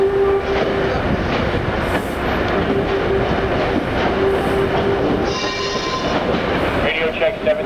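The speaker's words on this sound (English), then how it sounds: "Train 171 on the move outbound for New York Penn." An Amtrak train passes at Sunnyside yard, giving a steady, loud rumble of rolling railcars with faint wheel squeal and clatter throughout, under a brief burst of radio chatter.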